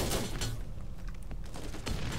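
Gunfire in the video game Borderlands, a dense loud burst of shots and booms packed across the whole moment with sharp impacts near the start and end, no talking.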